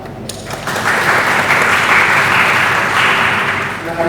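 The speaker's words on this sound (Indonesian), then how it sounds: "Mari kita kasih tepuk tangan." Guests at a wedding ceremony break into steady, dense applause that swells quickly and holds evenly for several seconds, filling a room, with a voice faintly underneath.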